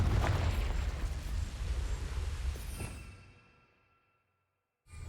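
A Confringo blasting spell explodes in the wizarding video game Hogwarts Legacy, a loud rumbling boom with heavy low roar that rolls on for a few seconds, fades out to silence, then a fresh blast bursts in at the end.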